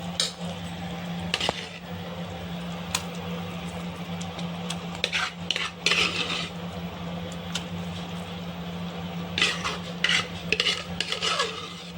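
Foxtail millet payasam is stirred in a pot, with soft scraping and occasional clinks of a spoon against the metal over a steady low hum from the stove.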